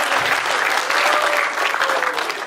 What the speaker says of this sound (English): Let's give a clap offering to ourselves.